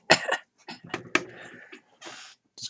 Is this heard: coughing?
yes